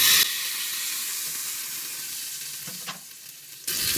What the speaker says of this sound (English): Add the tadka to the chutney.